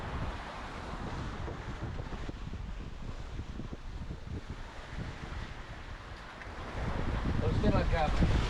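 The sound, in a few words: ocean waves and wind while sailing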